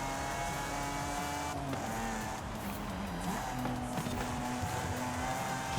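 A race car in Forza Horizon 5 revs its engine while the player feathers the throttle, giving a steady droning whine whose pitch rises and dips. Continuous, fairly loud and close, with no talk over it.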